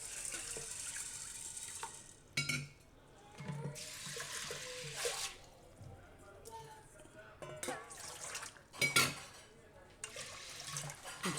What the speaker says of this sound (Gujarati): તો એને આપણે હવે કુકરમાં લઈ લઈશું. એમાં આપણે પાણી નાખીશું.